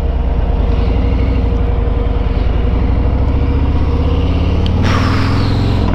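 A Harley-Davidson Road King 114 Special motorcycle runs on a test ride, its engine a loud, continuous, close rumble that swells slightly near the end.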